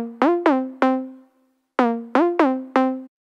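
Serum patch recreating the lead synth from a remix: seven plucky, bright synth notes with quick upward pitch bends and fast decays, played in two short phrases separated by a brief gap, clean and alone.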